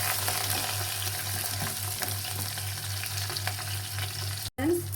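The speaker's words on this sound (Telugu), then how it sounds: "2 తెల్లబాయలు, ఎర్రగడ్డలు, కరివేపాకు బాగా ఫ్రై చేసుకుందాం." Garlic, onions and curry leaves fry in oil with a dense, close sizzle and light stirring scrapes. A steady low hum runs underneath, and there is a brief dropout near the end.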